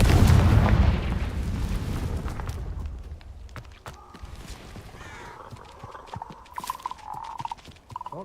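A Confringo blasting spell detonates in Hogwarts Legacy, a loud booming burst up front that decays into a rumbling tail, followed by quieter scattered game effects and a faint tonal hum.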